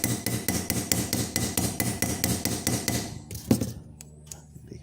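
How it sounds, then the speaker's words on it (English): Steady rhythmic hammer blows peen the pivot pin of a Western Hunter pocket knife, close and sharp, a dozen or more quick metallic strikes before a pause and one last louder tap. "the first side I will try to over peen just a little bit"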